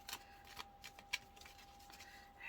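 Tarot cards are shuffled by hand during a reading, soft quick riffling and flicking bursts close by and quiet, with no voice over them.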